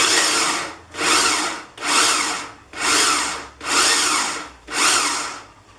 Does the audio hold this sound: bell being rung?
no